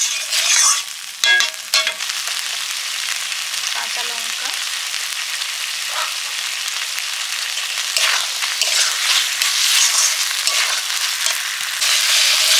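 Fried potatoes tipped into a sizzling pan with yogurt for aloo dum, a loud bright crackling sizzle throughout with a few sharp clatters and stirring scrapes near the start.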